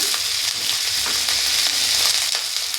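Drumstick stalks frying in hot oil on low gas, a dense, loud, continuous hiss and crackle with faint stirring taps underneath, close up and with no voices.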